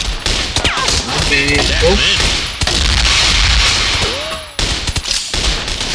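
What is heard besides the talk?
G36C rifle gunfire from a video game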